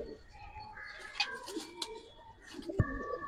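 Silver jumma pigeons cooing softly among other birds, a few low murmured coos with brief chirps, fairly faint against background noise.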